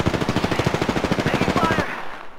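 A machine gun fires in a video game in one rapid, steady burst of about twenty evenly spaced loud shots, then stops abruptly.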